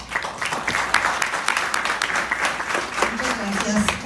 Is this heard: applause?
yes